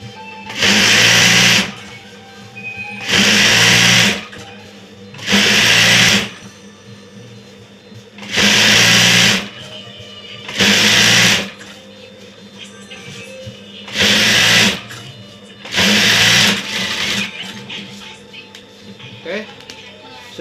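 A sewing machine stitches a straight seam on a layered foam bed sheet with ruffles, running in about eight loud, even bursts of a second or so, separated by short pauses.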